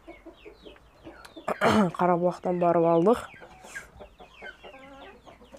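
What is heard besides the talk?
chickens and rooster clucking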